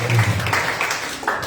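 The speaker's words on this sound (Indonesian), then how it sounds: "Beri tepuk tangan buat Tuhan Yesus." Church congregation clapping together during a Sunday worship service, a dense steady patter of applause throughout with some voices mixed in.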